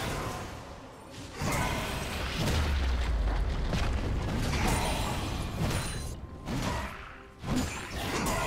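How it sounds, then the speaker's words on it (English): A turret is destroyed in League of Legends, with a loud rumbling explosion and crashing debris swelling up and holding for several seconds, then a few sharper bursts and whooshes. "Blue team's turret has been destroyed."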